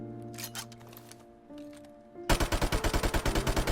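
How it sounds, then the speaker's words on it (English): Rapid automatic bursts from an MP44 rifle in Call of Duty, starting abruptly after a quiet stretch of game ambience and music, firing as a loud, evenly paced stream of roughly a dozen close shots. "Even when you aim down sights, the MP44 sure has a kick to it."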